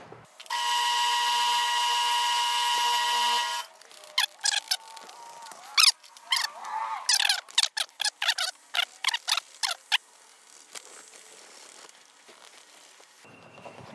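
Leather edges of a clutch bag are burnished, starting with a steady, loud motor whine from a few seconds, then a run of short rubbing and squeaking strokes that taper off quietly.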